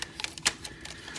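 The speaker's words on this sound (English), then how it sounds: "You push that to release the legs and fold them up like this." Legs of a Kishiryu-Oh robot toy from Kishiryu Sentai Ryusoulger being released and folded: a few sharp plastic clicks and snaps, one louder clack near the middle, close and quiet with no talking.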